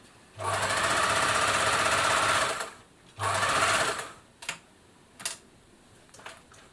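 Singer 760 sewing machine stitching in two sustained loud runs of rapid mechanical whirring, each about two seconds, followed by a few short clicks and clunks of the mechanism.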